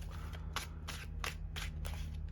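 A 60-card deck of trading cards is riffle-shuffled in five quick, crisp bursts that come in a steady rhythm. The shuffles are close but soft, over a low hum.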